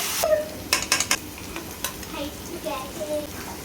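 Vegetables frying separately in a pan for chowmein, a steady sizzle under a few sharp scrapes and clatters of a utensil against the pan, close by, with no talk.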